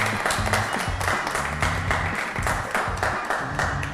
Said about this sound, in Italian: Guarda quanti applausi, sembrate un pubblico televisivo.